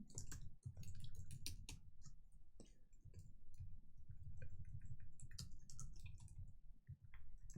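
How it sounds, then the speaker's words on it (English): Quiet computer keyboard typing comes as irregular clicks and taps in bursts, with no one speaking, over a low background hum. "Why am I typing so badly?"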